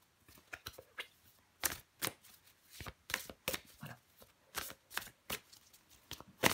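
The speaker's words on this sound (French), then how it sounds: "je prends encore une carte pour vous les béliers" Tarot cards shuffled and drawn, giving a series of sharp papery riffles and snaps in an irregular rhythm, close and fairly quiet, with no talking.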